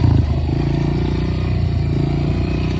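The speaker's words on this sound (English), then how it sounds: "Do a quick little throttle and then clutch drop. Front end will come up." A Honda CRF125F dirt bike engine drones loud and close at a steady mid pitch, held without much change in speed, as the rider prepares to pull a wheelie.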